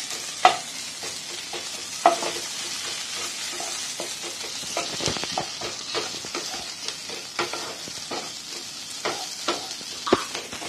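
Dried red chilies fry in oil in a pan for a fig curry, a continuous close sizzle broken by sharp utensil taps and scraping stirs throughout, with no voices.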